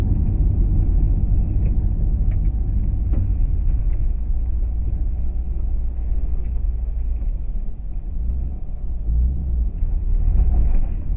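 A 2014 Shelby GT500 being driven, its engine giving a steady deep low rumble with road noise from inside the car, continuous and fairly loud, no talking.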